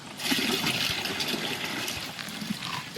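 Liquid raw material for jeevamrutha, a farm preparation for areca and coconut crops, poured into a container: a continuous splashing, trickling stream lasting several seconds at close range, with no talk.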